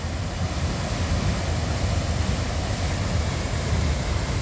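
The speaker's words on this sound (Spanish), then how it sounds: "Ahí está la catarata, vean cómo cae." The Rontoy waterfall pours down in a loud, steady broadband roar with a deep rumbling low end, continuous and unbroken throughout, with no voices.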